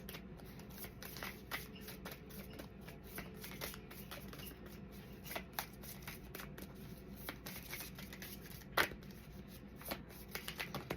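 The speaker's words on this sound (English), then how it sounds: "We'll shuffle it and we'll do 2 times." A deck of cards is shuffled for a pick-a-pile reading: quiet, continuous papery riffling and tapping with a few sharper snaps, close by and with no talk.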